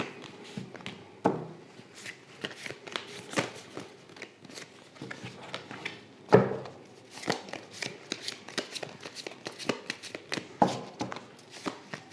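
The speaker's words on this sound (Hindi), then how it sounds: "कार्ड्स को थोड़ा संभाल के ही शफल करना चाहिए" A deck of tarot cards is shuffled by hand at close range in a run of crisp riffles and slaps, with brief pauses between bursts and a couple of louder taps.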